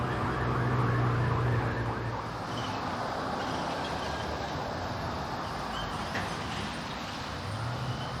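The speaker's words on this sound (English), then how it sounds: "there's sirens all over the place." Emergency sirens wail continuously in a busy downtown street scene in Harrison, Arkansas, steady and moderately loud, with traffic rumble underneath and no talking.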